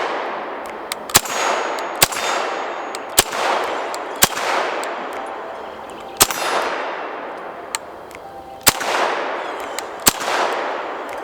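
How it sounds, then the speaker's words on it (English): An UZI PRO pistol fired at a range, about nine sharp single shots spaced a second or more apart, each with a loud crack and a ringing metallic tail, with no talking. "I don't know, just shoot it like this, I guess."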